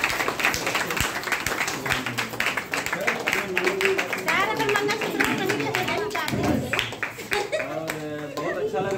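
An audience at an indoor company event claps loudly and continuously, with a voice speaking over the applause.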